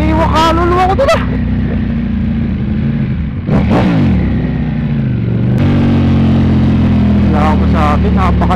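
A Ducati motorcycle revs and accelerates hard, its engine pitch climbing through gear changes, loud and close, with a voice heard faintly in places.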